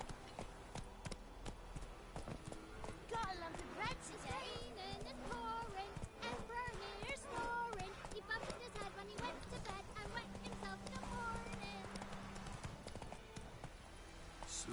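Hoofbeats of a horse clip-clopping at a run in the Witcher 3 video game, steady rhythmic thuds under game music and a voice talking throughout.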